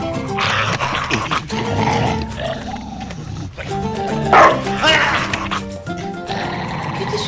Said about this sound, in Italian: È un cane.